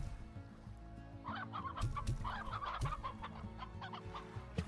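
Chickens cluck repeatedly in the video game Slime Rancher, a busy cluster of short calls over a steady low background hum, with no talking.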